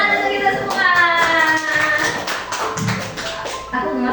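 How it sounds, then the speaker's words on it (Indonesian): A group claps their hands together in a room, producing a busy run of sharp overlapping claps over about four seconds, with voices talking and children's speech mixed in. "tepuk tangan untuk kita semua."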